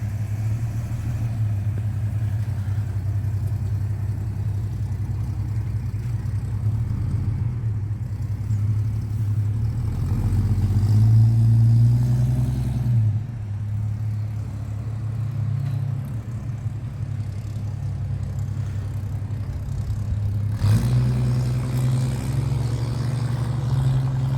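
A 1973 Ford Fairmont hardtop with a custom 2½-inch mandrel-bent 409 stainless exhaust rumbles steadily at low pitch, swelling briefly as it pulls away, then settling into a sustained drone; no one speaks.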